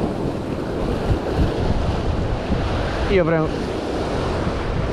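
Atlantic surf breaking on the shore at Fuerteventura during a fishing session, steady loud wash of waves and wind noise, with a brief spoken phrase near the end.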